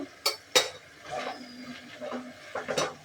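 A pot of oil-free banana-flower curry on the stove clinks as it is stirred and covered with a lid: a few sharp metallic knocks and scrapes, close and fairly quiet, with soft rattling between them.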